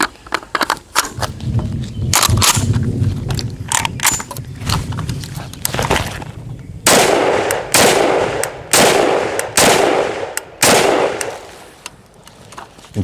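A SIG 552 rifle fires loud, close shots: an opening stretch of rapid irregular cracks, then a series of sharp, widely spaced reports with brief quiet between them.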